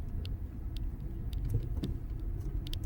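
Cars idle and move through a crowded pay parking area in Al-Ain, a low, steady traffic rumble with faint distant clicks and thuds, heard alone without talk.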